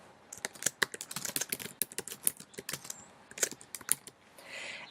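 Close, rapid keystrokes on a computer keyboard tapping out a site name, in uneven bursts with brief pauses, no voices.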